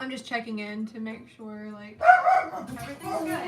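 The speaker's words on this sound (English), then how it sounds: "Oh, that's my dog." A Pomeranian dog barks and yips in a short, excited burst indoors, coming in right after a stretch of someone's calm talking.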